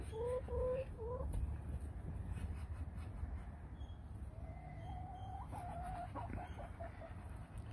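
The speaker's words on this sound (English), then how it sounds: "Oh, look at that little chicken." Backyard chickens clucking near ducks outdoors, a few short clucks at the start and a softer run of clucking later over a steady low rumble of background noise.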